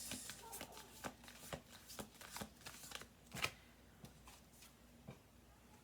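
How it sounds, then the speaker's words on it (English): A deck of cards being shuffled by hand in a quiet room: a run of short, crisp riffling bursts and soft taps, close and fairly faint, with one louder riffle midway. "I'm gonna do 2 more shuffles."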